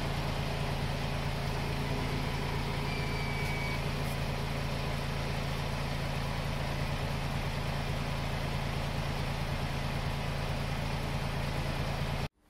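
Diesel idle from a 1997 Isuzu Panther 2.5 during an emission test, a steady, loud, unbroken drone that holds for the whole stretch and then cuts off abruptly at the end, with no voices.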